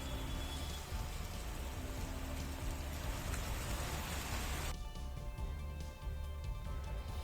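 Heavy rain pours steadily during flooding in Sikar, Rajasthan, a dense, loud, unbroken hiss of falling water that stays even throughout and dulls slightly in tone near the end.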